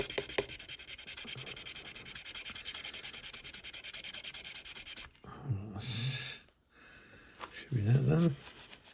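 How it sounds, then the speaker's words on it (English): Close, steady scratchy rubbing of sandpaper on a plastic Revell 1/32 Tornado F3 scale model for about five seconds, followed by a few seconds of spoken voices with brief pauses. "And then just sand away on there for a minute."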